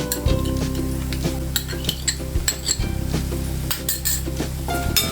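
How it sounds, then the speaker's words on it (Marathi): Veg Manchurian gravy sauce, with vinegar and pepper added, is mixed in a pan; a metal spoon clinks and scrapes against it in a steady run of close, repeated strokes. "छान मिक्स करून घ्यायचा आहे"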